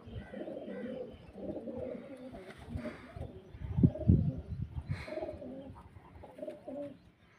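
Flying pigeons kept at a home loft in Karachi, Pakistan coo in repeated soft, throaty phrases close by, several birds overlapping in a low rhythmic warble.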